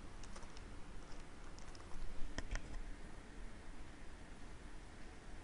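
Code is typed on a computer keyboard, faint scattered key clicks over a steady background hiss, with a slightly louder cluster of taps midway.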